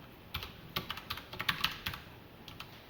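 Code being typed on a computer keyboard, a quick uneven run of crisp close keystrokes lasting a few seconds with no voice over it.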